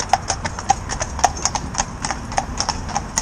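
A pair of Gelderlander horses, one black and one grey, walk in harness training, their hooves clip-clopping in a clear, even rhythm of distinct knocks, with faint voices in the background.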